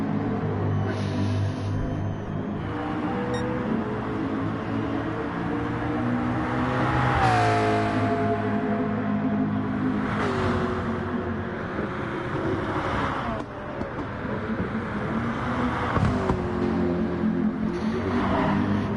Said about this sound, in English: There is the McLaren, the 650S.